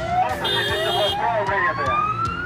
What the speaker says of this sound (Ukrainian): Автоколона вривається із сиренами та проблисковими маячками.